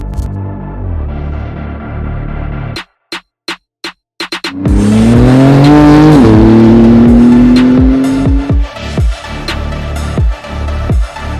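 A 700 hp 2019 Porsche 911 GT2 RS Weissach Package twin-turbo starts with a few sharp clicks, then its engine roars loudly and climbs through revs, easing off with brief gear-shift dips and rumbling on nearby.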